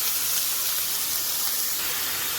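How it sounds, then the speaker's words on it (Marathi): Cabbage and potato tipped into spices frying in a pan, a loud continuous hissing sizzle, close and steady for the whole moment with no talking. "त्याच्यामध्ये आपण कोबी ॲड करूया. त्याचबरोबर बटाटा."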